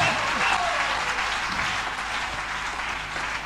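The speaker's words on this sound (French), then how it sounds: "est-ce que tu peux acclamer le Seigneur Jésus?" Church congregation applauding to acclaim Jesus during a prayer service, loud continuous clapping filling the hall throughout, with a voice speaking faintly underneath.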